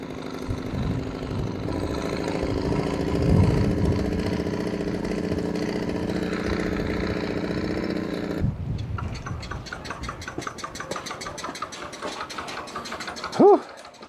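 A vintage Velo Solex 1700 moped engine runs steadily, quiet but four-stroking irregularly as if over-fueled, its buzzing drone continuing before shifting into a rougher, sputtering pulse near the end.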